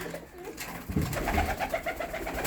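Pigeons cooing steadily at close range in a loft, soft throaty rolling calls repeating over a low background murmur.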